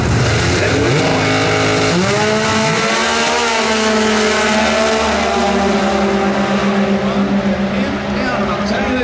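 Drag race cars launch and scream down the strip at NHRA Sonoma, a loud sustained engine roar rising in pitch, heard under an announcer calling the race.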